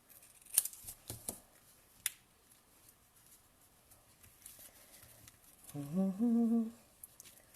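Scissors trimming a small piece of card stock while making an Easter card, heard as a few quiet, sharp snips near the start and a separate snip around the middle, followed by a brief tonal squeak.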